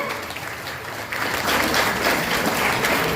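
An audience at a women's community awards event breaks into applause, the clapping swelling louder after the first second into a dense, sustained crowd sound.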